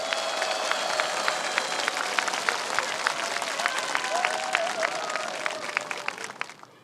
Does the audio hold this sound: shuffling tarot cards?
no